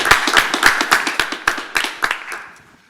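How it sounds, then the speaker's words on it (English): A small audience at a panel on human-machine interfaces gives a short round of applause, distinct individual claps in a quick rhythm that thin out and fade within a few seconds. "give our audience a big round of applause"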